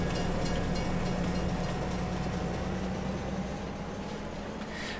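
A train rolls along tracks in Farming Simulator 22 on a Canadian railway, a steady low rumble and rattle of wagons that continues evenly throughout without talk.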